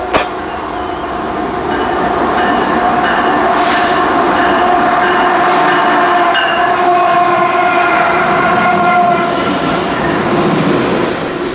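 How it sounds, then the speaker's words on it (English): A CSXT freight ethanol train heading south passes on the railroad track, a loud, steady rumble with rhythmic wheel clatter throughout and no voices. "It was K476, an as-needed ethanol train for Tampa."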